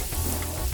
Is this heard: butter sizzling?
yes